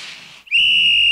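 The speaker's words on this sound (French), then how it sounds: "L'arbitre siffla." A referee blows a sharp, loud whistle at an ice hockey game, a single sustained shrill blast that starts abruptly after a brief soft hiss and holds steady to the end.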